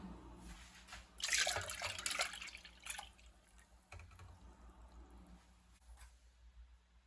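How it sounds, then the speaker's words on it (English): Milk pouring into a saucepan, a gurgling splashy stream that swells loud then tapers into soft dribbles and drips. "You're going to pour in your milk."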